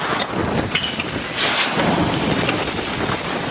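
Heavy rain pours steadily in a dense, loud roar during a storm in Pakistan, with low thunder rumbling underneath throughout.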